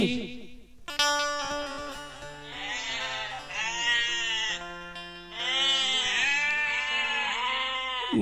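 A voice imitates goats bleating during a live devotional storytelling performance, with long, wavering, nasal bleats in two loud, sustained bursts over a steady backing drone.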